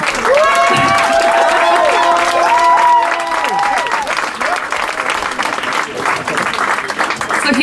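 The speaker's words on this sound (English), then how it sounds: "And applause too." Audience applause and cheering at an open-mic stage night in Gothenburg, a loud burst of clapping with whoops and voices that settles into steady, dense applause.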